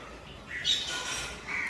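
Mynas feeding on sev scattered on the ground give a few squawking calls, faint and somewhat distant over a quiet outdoor background.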